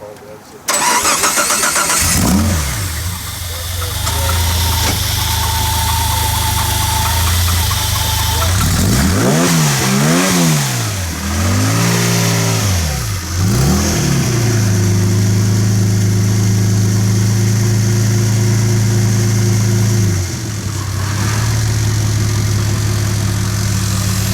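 A DeLorean with a swapped engine cranks and starts, revs a few times, then settles into a steady low idle around 850 rpm that runs on at length.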